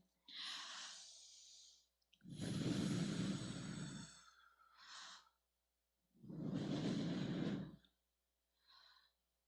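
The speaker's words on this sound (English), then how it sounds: "let's take 5 good deep breaths" A group taking slow deep breaths during a guided relaxation, with long audible inhales and sighing exhales repeating at an unhurried pace, close and fairly quiet.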